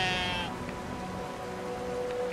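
A sheep bleats in the video game Brothers: A Tale of Two Sons, a wavering, nasal bleat at the start that fades into a quiet, steady game ambience.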